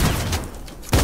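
Gunfire in a battle royale video game: a quick burst of loud, close shots, one at the start and another sharp blast near the end of the second.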